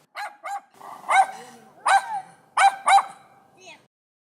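Small, aggressive stray dogs bark in a city street, a series of about six sharp, loud barks in quick uneven bursts close to the listener, with a faint whimper at the end.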